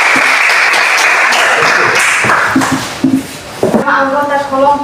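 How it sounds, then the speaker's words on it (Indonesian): Classroom applause for the first student group, a dense burst of clapping from many hands that thins out midway, with voices talking over its tail end. "tepuk tangan untuk kelompok 1"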